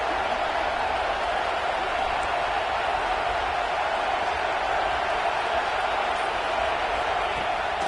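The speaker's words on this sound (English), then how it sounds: "This crowd, full throat, splitting the eardrums" A football stadium crowd at a game against Tennessee roars loudly and continuously after a big negative play, a dense, sustained wall of noise with no breaks.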